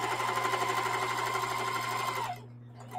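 Sewing machine stitching a spring tote bag from a half yard of fabric, a steady fast mechanical whir with a constant hum that runs loud and close for over two seconds, then stops abruptly.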